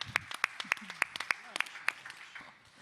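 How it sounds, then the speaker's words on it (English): Audience applause at an academic research panel comes as a short run of sparse, distinct claps, near and fairly crisp, thinning out toward the end over faint background murmur. "And the applause is audible, I hope."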